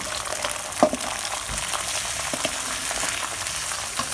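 Steady crackling sizzle of eggs frying in hot oil, with a few light pops and scrapes over a continuous hiss.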